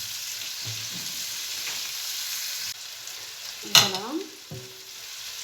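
Sliced peppers and onions frying in a pan, a steady soft sizzle throughout, broken by a spoon scraping and stirring near the end, with a single brief spoken word.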